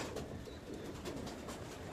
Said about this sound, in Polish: No i tutaj mają kolejne gołębie.